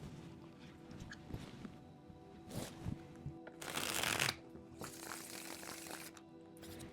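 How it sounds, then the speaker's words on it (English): A deck of tarot cards is shuffled up close, with soft riffles and taps that build into a loud burst of fast riffling before quieter shuffles follow. "So let's shuffle these cards and let's see what we have for you."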